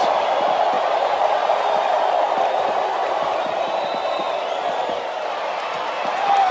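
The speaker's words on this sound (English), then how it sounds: "Sounds like this crowd's got something on their minds, King." Steady roar of an arena crowd in the WWE SmackDown vs Raw 2007 wrestling video game, a dense continuous wash of cheering voices with a few scattered thuds, heard under commentary.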